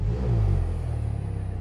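Mercedes-AMG GLC 43 engine revving, a steady low rumble that swells early then settles into a pulsing drone, close and alone with no talk.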